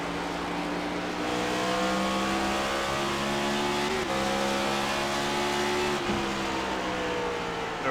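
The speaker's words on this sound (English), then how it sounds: "I think I just heard a hint of a downshift." A race car in a racing video game at Richmond screams along at high revs, with the engine pitch climbing steadily and then dropping sharply twice at downshifts, loud and close with no talk.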